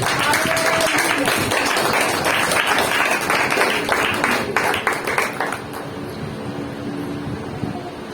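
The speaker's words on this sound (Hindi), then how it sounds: "अपने लिए जोरदार ताली बजाओ एक बार।" A church congregation clapping loudly during a Sunday sermon, a steady dense patter of many hands that fades off toward the end, with a voice speaking over it.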